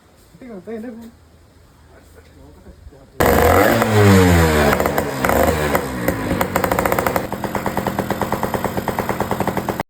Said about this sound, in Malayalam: നമ്മുടെ വണ്ടി രണ്ടാമത്തെ കിസ്റ്റാടി തന്നെ സ്റ്റാർട്ടായി